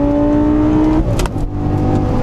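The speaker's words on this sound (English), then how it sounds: "this is one of the finest engines ever made in a car" A V10 car engine, just cleaned of carbon buildup, revs hard with a loud rising whine that snaps off around the midpoint, then settles back into a steady, throaty idle close by.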